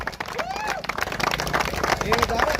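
Crowd applauding and cheering for the champion team, Vetal Sports Dalepada, at a village trophy ceremony, dense clapping mixed with babble and a nearby voice talking over it.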